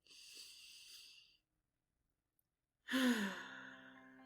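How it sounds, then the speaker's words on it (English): A person breathes deeply during a mindfulness exercise. A soft, airy exhale is followed by a pause of silence, then a louder, fuller breath with a slightly voiced, sigh-like tone. "Breathe all the way into the fullness of your lungs."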